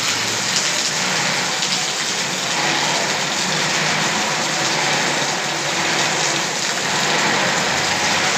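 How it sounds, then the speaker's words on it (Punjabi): Heavy rain pours down in a dense, continuous hiss on surfaces nearby, steady and loud throughout with no voices. "ਬਹੁਤ ਜ਼ਿਆਦਾ ਜਿਹੜਾ ਮੀਂਹ ਆ"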